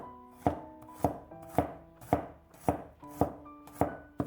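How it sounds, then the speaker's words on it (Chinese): Garlic cloves being chopped into small pieces with a kitchen knife, eight crisp, evenly spaced blade strikes on a cutting board at close range, with no voices. "再多准备几瓣大蒜， 给它切成小碎丁"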